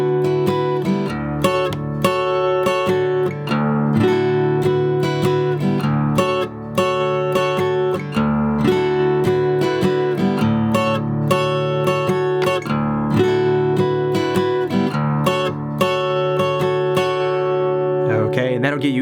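Acoustic guitar strumming a song, a steady, full chord pattern with short, clipped upstrokes, loud and close, with no talking throughout.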